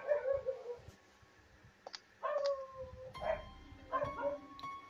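A dog barks and yips in short bursts, several sharp high calls with a whimpering tone spread across a few seconds, fairly faint with light clicking underneath.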